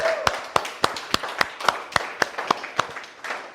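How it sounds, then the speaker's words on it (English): Club members at a meeting clap in a steady, evenly spaced rhythm. The sharp claps stand out clearly over a quiet room, with no talking. "so please give yourself a round of applause"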